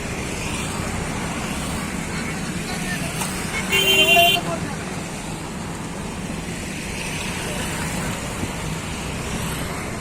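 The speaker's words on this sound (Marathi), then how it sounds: "रस्त्यावरनं ट्रॅफिक पण जात आहे" Steady road traffic noise with cars passing on a bridge in Nanded, a short horn toot partway through, water rushing beneath the constant hum.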